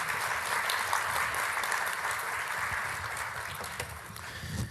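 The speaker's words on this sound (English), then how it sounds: "Please give them a round of applause" Steady applause from an audience for a panel at a health conference discussion on COVID long haul syndrome, dense clapping that holds fairly even and slowly tapers.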